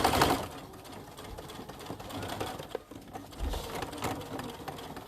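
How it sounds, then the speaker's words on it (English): A sewing machine stitching around a jeans hem, a rapid steady mechanical whir and clatter at close range, slowing and pausing briefly midway, then resuming. "I'm going to sew around."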